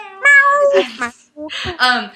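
A person imitates a cat's meow during a podcast conversation, giving two short drawn-out vocal meows up close and loud.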